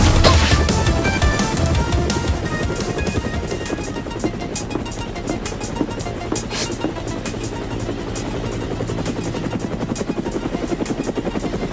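Helicopter in the video game Ninja Gaiden: Ragebound, a loud, steady rotor drone with a fast chopping pulse that carries on throughout, joined by scattered sharp game impacts and effects.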